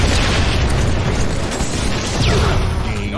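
Loud, sustained explosive roar of a grenade blast in the Halo 3 online multiplayer, dense broadband rumble filling the whole stretch with no pause.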